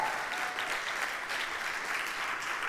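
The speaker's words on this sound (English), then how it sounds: "Hannah, cheer everybody." An audience applauds steadily after a keynote talk on aviation, the clapping dense and continuous from start to finish at moderate distance, with no voices rising above it.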